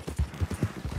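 A Tennessee Walker horse in the Red Dead Online game trots with quick, evenly spaced clip-clopping hooves, moderately close and steady, with no talk over it.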